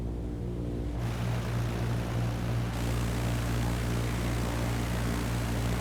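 Airplane engine in the video game Microsoft Flight Simulator 2020, a continuous loud propeller drone with a steady hum that holds through the whole stretch.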